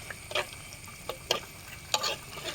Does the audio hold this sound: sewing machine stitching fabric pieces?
no